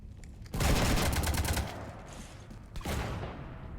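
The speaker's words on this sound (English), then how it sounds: "You want to stop shooting up my ship?" Rapid automatic gunfire in Mass Effect 3: a loud burst of about a second of fast repeated shots, a brief lull, then another burst starting near the end, with no talk over it.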